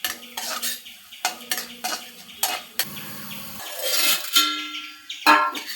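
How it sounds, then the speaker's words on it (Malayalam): Curry leaves go into hot oil for a mustard-seed tempering for erissery, with sharp sizzling bursts, metal spoon scrapes and clinks against the pan, close and intermittent, no talking. "ഇനി നമുക്ക് കറിവേപ്പില ചേർത്ത് കൊടുക്കാം."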